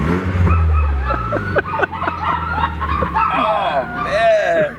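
A car fitted with an upgraded Armytrix exhaust revs loudly with a deep engine roar, then settles to a lower rumble as several people talk and exclaim over it.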